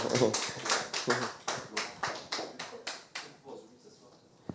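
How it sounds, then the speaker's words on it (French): An audience at a church gathering claps hands in a fairly rhythmic run of distinct, fairly close claps that slow and thin out toward the end, with talk faintly underneath. "On l'applaudit très fort."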